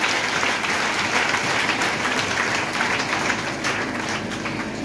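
Church congregation applauding at an Easter service, a dense, sustained wash of many hands clapping, loud and close throughout, with no voices standing out.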